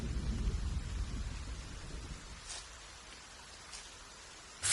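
Steady rain falls in a medieval setting in the video game The Pillars of the Earth, a soft wash of drops fading slightly over several seconds, heard alone with a louder burst at the end.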